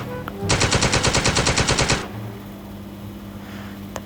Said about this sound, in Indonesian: Kita tembakin dari atas.